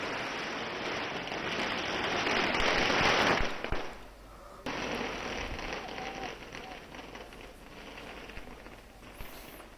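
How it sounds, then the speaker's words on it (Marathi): Firecrackers and fireworks set off by cheering supporters at a street political celebration, a dense crackling barrage that swells loud, cuts off briefly near the middle, then resumes as steadier rattling bursts. "फटाक्यांची आतषबाजी करण्यात आली"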